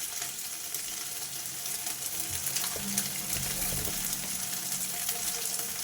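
An egg fries in a pan seasoned with salt and chili powder, giving a soft, continuous sizzle with faint crackles and a few light stirring scrapes, steady and not very loud, with no voices.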